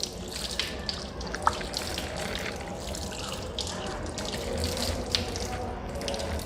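Tap water runs steadily into a sink while the left arm is washed up to the elbow, with soft splashes and occasional drips close by.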